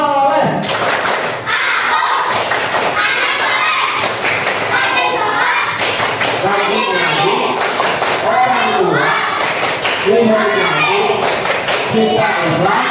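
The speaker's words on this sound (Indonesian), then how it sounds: "mari bersama kita tepuk anak soleh" Children chanting and clapping together in a rhythmic classroom clap chant, loud repeated bursts of claps with young voices, close and lively throughout.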